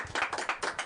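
A small group of party guests claps briefly indoors, a handful of quick, uneven hand claps close together and fairly quiet.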